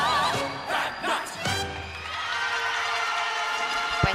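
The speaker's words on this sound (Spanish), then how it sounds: "Pues ahí se llevan estos aplausos estas gimnastas de Galar, muchísimo más fuertes que en el primer pase" Crowd cheering and applauding for a rhythmic gymnastics group at a youth sports championship, a loud sustained wash of clapping with whoops that swells early, then settles into steady applause with a sharp clap near the end.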